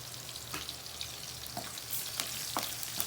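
Garlic sizzles steadily in hot oil in a pan, a dense close-up hiss broken by a few sharp crackles and pops, with no voices over it.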